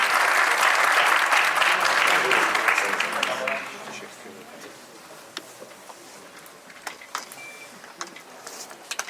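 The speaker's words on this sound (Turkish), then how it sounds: "alkışlarınızla davet ediyorum" Audience applause fills a hall at the opening of the 7th Cyber Security Summit in Turkey. It starts loud and dense, then thins after a few seconds into scattered claps over quiet room noise.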